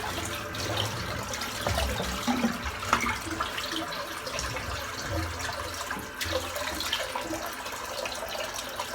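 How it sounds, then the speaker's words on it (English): Bathroom sink full of shaved hair and water draining after a head shave, a continuous gurgling, splashing water wash at moderate level, close by, with no talking. "So I'm going to empty the sink because it's full of dead hair."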